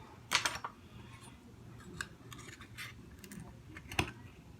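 A pearl oyster shell is pried open, giving a few sharp clicks and scraping cracks scattered over quiet background, loudest near the start and end.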